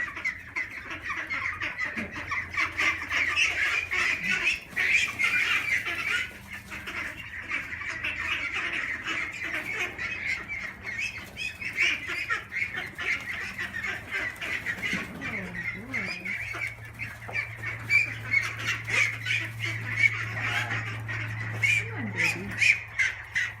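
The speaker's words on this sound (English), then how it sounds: "first duck outing," Young ducklings on their first outing on a Central Texas farm give repeated peeping and squawking calls, near and busy, with bursts of wind noise and occasional voices nearby.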